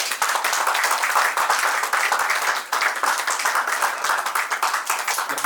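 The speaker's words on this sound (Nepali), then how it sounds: "ताली बजाइदिउँ" Guests at a Nepali Christian wedding clap for the newly declared husband and wife, brisk, lively applause from a room full of people that keeps going steadily.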